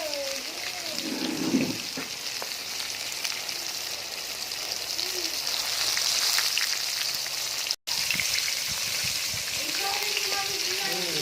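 Chicken frying in oil with masala, with a constant loud crackling sizzle running throughout, broken by a brief cut, while voices and some stirring sit faintly underneath.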